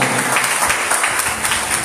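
A church congregation applauds during a sermon, a steady wash of many hands clapping at moderate loudness.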